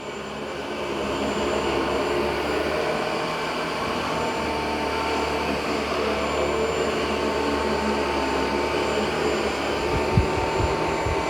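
A Dyson 360 Vis Nav robot vacuum running at a steady, loud whirring drone with a broad airy roar, holding high power throughout, with a small thump near the end.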